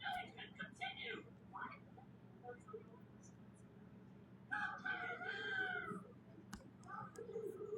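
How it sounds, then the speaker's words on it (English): A rooster crows outdoors in the morning, a long wavering call rising over a steady low hum, with shorter bird calls and clucks before and after. "That freaking rooster said, cock-a-doodle-doo, wake up, we got stuff to do."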